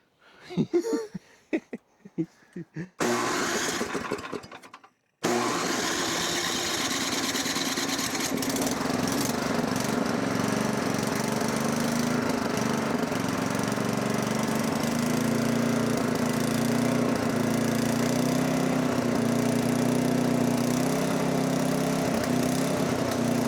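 A snow blower engine being revived, with a few sputtering attempts and brief bursts before it catches and runs loud and steady at high throttle, a continuous close drone with a rough, uneven hum.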